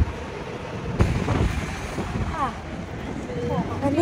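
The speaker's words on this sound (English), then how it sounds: "It's pretty cold today, and it's so windy" Strong wind buffets the microphone outdoors on a cold, windy day in Taipei, giving a steady low rumble with gusts. A voice speaks under the wind.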